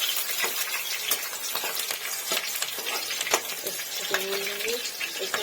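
Browned onions and green chilies sizzle in a hot pan under a steady frying hiss, with repeated scraping stirs throughout. A faint voice sounds in the background.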